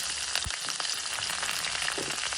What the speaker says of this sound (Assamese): দি অকণমান ভাজি ল'ম